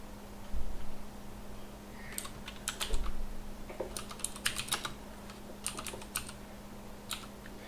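Someone types on a computer keyboard in quick, uneven bursts of clicky keystrokes with short pauses, close and moderately quiet over a low steady hum.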